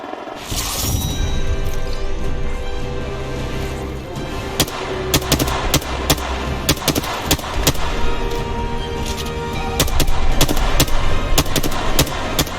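Gunfire in the video game Apex Legends, with rapid sharp cracks and bursts of automatic fire that go on across the whole stretch over a rumbling battle din, and the shots grow louder near the end.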